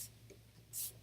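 Chalk or marker scratches across a board during a lecture, two short, faint bursts of writing over a quiet room hum with no speech.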